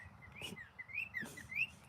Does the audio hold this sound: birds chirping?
yes